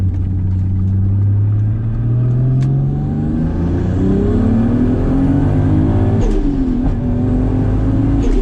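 A car with a new downpipe, catalytic converter and steering work accelerates hard and hits boost, its engine note climbing steadily and loud for the whole stretch with gear-change dips near the end.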